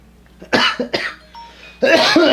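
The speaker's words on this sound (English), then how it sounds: "Cough attack." A few sharp coughs in quick succession, close and loud, followed by a longer harsh coughing fit.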